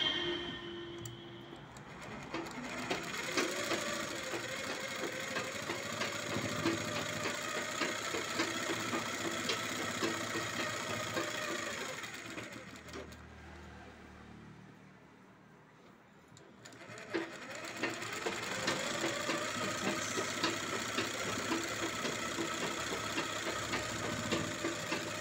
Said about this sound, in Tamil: இப்போ மிதியடை தையல் நம்ம போடணும்